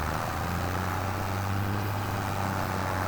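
The yellow tractor's engine in Farming Simulator 25 drones at a steady idle, a low constant hum with a broad rumbling wash that holds evenly and never changes pitch.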